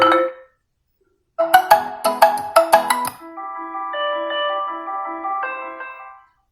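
A Xiaomi Poco F4 GT smartphone plays a ringtone preview: a short chime, a pause, then a bright run of plucked electronic notes followed by a sustained synth melody, clear and close with no talking.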